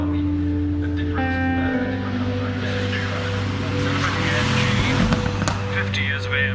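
A Lamborghini Huracán with its V10 engine runs past at the Goodwood Festival of Speed, a loud, close, sustained engine drone that rises in pitch as it accelerates. Talk can be heard over it.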